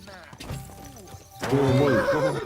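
A horse in the video game Kingdom Come Deliverance 2 gives a loud, wavering neigh that rises into a strong whinny, heard over someone talking in the background.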